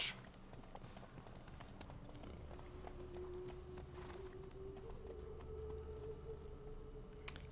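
A horse ridden in The Witcher 3 video game clip-clops at a steady trot, the hoofbeats fairly soft and even throughout, alongside a faint background hum and no talk.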